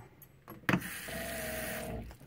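Water runs from a tap into a plugged sink in an RV, starting with a sharp splash and then continuing as a steady close rush that stops near the end.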